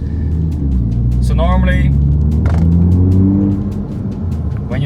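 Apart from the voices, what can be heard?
MINI F56 John Cooper Works engine rumbling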